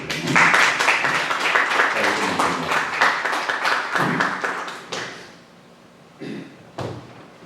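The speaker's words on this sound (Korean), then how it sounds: "여러분 환영해 박수." Audience applause after a welcome for a visiting professor at a church or lecture gathering: loud, dense clapping from a crowd for about five seconds, then fading to a few scattered claps and thuds.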